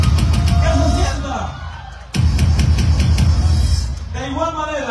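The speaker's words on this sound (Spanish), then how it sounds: "Para quien pido un fuerte aplauso por la tarde de la venta popular." Crowd at a popular-sale community event cheering, whooping and clapping in a loud, dense roar, with a brief dip midway before the noise surges back and raised voices carry through.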